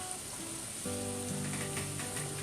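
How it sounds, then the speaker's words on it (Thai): Pork belly frying in hot oil gives a steady crackling sizzle with sputtering pops, close and continuous, with a faint hum running underneath. "อันนี้ที่เห็นเป็นหมูสามชั้นทอดนะคะ เจียวอยู่"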